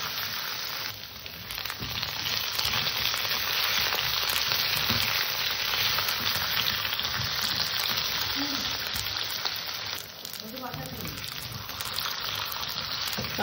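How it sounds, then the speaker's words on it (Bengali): Green banana and potato pieces frying unseasoned in hot oil in a pan, giving a loud, dense, continuous sizzle throughout with brief stirring noises near the end. "কাঁচকলা আলুটাকে আমি হালকা একটু ভেজে নেব, মশলা লবণ হলুদ ছাড়াই আগে হালকা করে একটু ভেজে নেব।"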